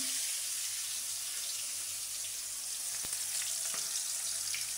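Chopped onions fry in hot oil with a dense, steady sizzle held at constant loudness, broken by a couple of faint clicks from the pan.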